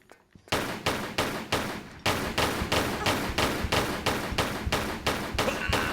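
Pistol shots in Tomb Raider 3 Remastered ring out in a steady rhythm, about a dozen loud, close reports evenly spaced after a brief quiet start.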